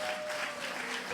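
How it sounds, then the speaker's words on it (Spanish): A church congregation claps loudly and steadily in praise during a sermon, a dense, continuous wash of applause with no voices over it. "¿Cuántos dan un fuerte aplauso al Señor?"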